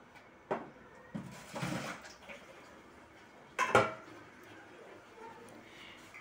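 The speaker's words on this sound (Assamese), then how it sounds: "এতিয়া মই বাচনখিনি ধুই ল'ম" Bell-metal plates and bowls clatter and clink while being washed, with a few sharp metallic knocks over a low wash of water and handling noise.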